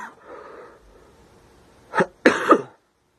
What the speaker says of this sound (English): I'm having trouble talking because I keep coughing.